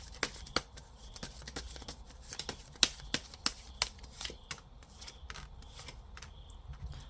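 Tarot cards being shuffled and drawn, giving a string of crisp, irregular snaps and flicks close by over a faint background hiss, with a few louder slaps in the middle.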